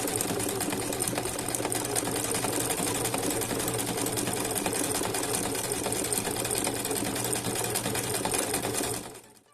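A sewing machine runs continuously, stitching back and forth over the lining of a checkered crochet bag, with a loud, even mechanical whir and rapid needle clatter until it stops at the end.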